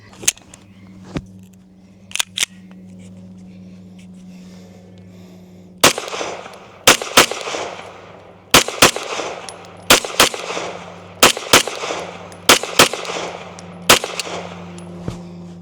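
Sharp, loud gunshots from a BUL Armory TAC 5 stainless 2011 pistol fed from an extended competition magazine, a few spaced shots at first and then a quicker string of about a dozen with a short echo trailing each one.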